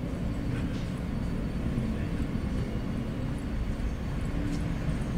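Steady low rumble and clatter from inside a moving New York subway train headed to Rockefeller Center, continuous and fairly even, with faint squeaks and rattles and no clear speech.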